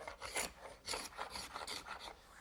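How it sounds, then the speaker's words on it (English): Scraper rasping excess dried glue off glued-up wooden boards for a rocking horse, rhythmic back-and-forth strokes, close and steady, about eight passes with no talk. "unclamp the boards and scrape off any excess glue"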